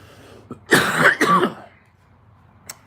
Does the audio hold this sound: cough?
yes